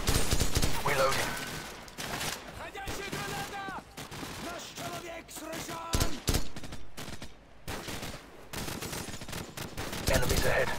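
Call of Duty 4: Modern Warfare combat erupts in dense, loud bursts of automatic gunfire and single shots, rising and falling over about ten seconds, with voices talking amid the shooting.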